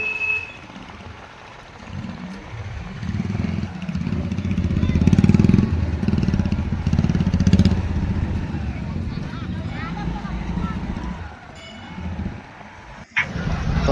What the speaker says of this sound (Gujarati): અંદર જઈને પહેલાં આપણે એક્ટિવા પાર્ક કરી દઈશું